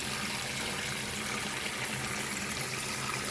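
Water runs steadily from a kitchen tap at low pressure, a continuous, even hiss and splash with no pauses, fairly close and loud, with no talking over it.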